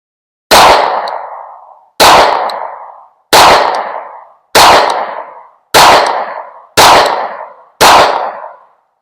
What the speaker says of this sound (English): We're going to go ahead and shoot the rest of these 17 rounds.